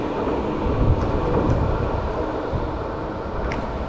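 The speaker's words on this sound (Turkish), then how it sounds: "Tramvay geçiyor." A tram passes by on a city street, a steady low rumble of wheels and motor holding at a fairly constant, moderately loud level for the whole stretch, with no talking.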